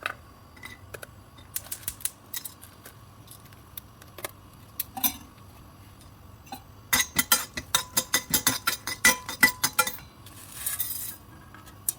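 Whole spices rattle and clink in a hot dry pan as they are stirred and tossed for roasting, sparse taps at first, then a dense burst of quick metallic ticks, with no talking.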